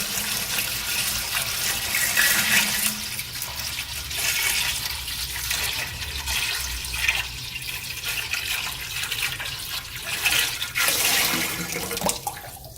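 Water gushes and splashes steadily into a beer brewing machine for several seconds, close and fairly loud, with no voices.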